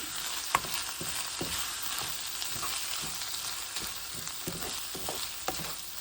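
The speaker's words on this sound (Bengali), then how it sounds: "চালগুলি ভালো করে নেড়ে মিশাতে হবে চুলা একদম আমি মিডিয়াম হাইয়ে রেখেছি" Rice stirred with onions in a pan over medium-high heat for jeera rice; a continuous soft frying hiss runs underneath repeated light spatula scrapes and taps, faint and close, with no one speaking.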